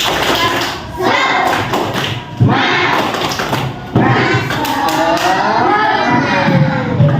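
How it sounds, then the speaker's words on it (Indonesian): Pupils in a primary school religion class perform a rhythmic group spirit clap, loud patterned claps and thumps mixed with children's voices chanting along. "Yuk kita sama-sama tepuk semangat ya"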